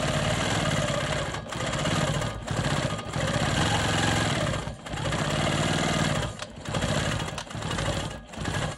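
A sewing machine stitches a ruler work line on a star quilt block, running steadily and loudly with a dense mechanical hum and brief pauses between bursts of stitching.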